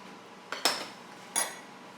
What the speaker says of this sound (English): we're gonna just spoon these crumbs over